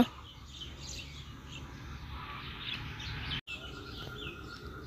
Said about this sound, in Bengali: সরাসরি ভয়েসটা দিলে আমার বাড়িতে অনেক পাখি কিচিরমিচির করে